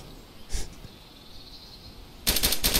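Burst of rapid gunfire from zombie-shooting video game action, a loud volley of quick shots near the end after a brief earlier crack, with a quiet bed between.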